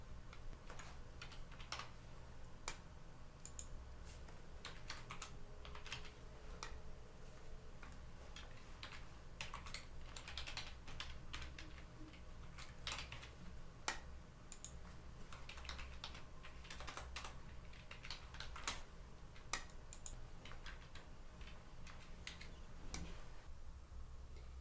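Someone typing on a computer keyboard, entering project details into a housing inventory form, with irregular quiet clicks and clustered keystrokes running steadily for about twenty-five seconds over a low background hum, no talking.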